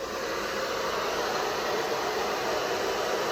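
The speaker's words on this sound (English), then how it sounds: "this time with the hairdryer" A hairdryer blows hot air in a steady, even broadband whoosh with no variation, alone and fairly close.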